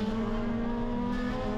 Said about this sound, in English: If you see the field streaking through now, Molesworth lining up the back of Craig Wild